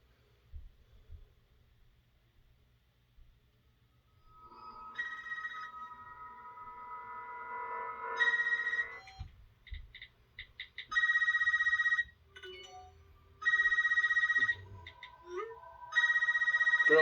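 An electronic phone tone rises, then a landline rings in several loud, regular bursts separated by short pauses.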